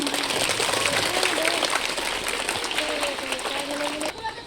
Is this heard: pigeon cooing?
no